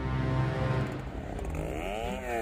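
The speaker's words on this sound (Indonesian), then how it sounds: "Gergaji mesin memecah sunyi." A chainsaw engine snarls steadily in a Kalimantan tropical forest, its pitch dipping then revving higher as it bites, loud and close throughout with no voices.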